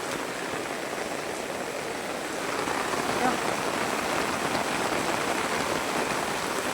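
Heavy monsoon rain pouring onto a waterlogged yard, a dense steady hiss of drops striking pooled water that swells slightly louder midway and holds.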